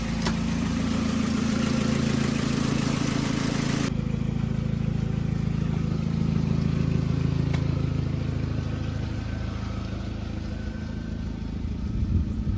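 A revived VW Corrado with a 1.8T engine idles steadily close by, a continuous low rumble with a slight change in tone partway through.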